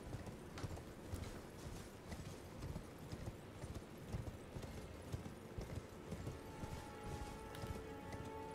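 Horse hooves clip-clop steadily at a gallop in the open-world fantasy game Elden Ring, a continuous rhythmic pounding with a brief whinny, close and fairly loud.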